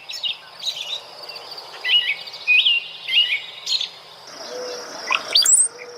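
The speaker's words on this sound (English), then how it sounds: "Oh, cowbird." Cowbird calls sound as a series of short, bright whistled chirps spaced across a few seconds, then a higher closing note, clear and fairly close over a soft background of other birdsong.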